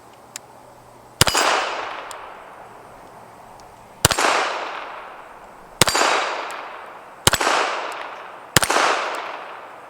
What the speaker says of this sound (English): Let's do some slow controlled fire, unlike our mag dump we started things off with